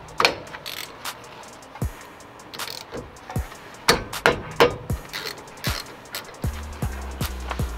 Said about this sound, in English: we're using the 14 metric to take out the sliding bolts for the brake caliper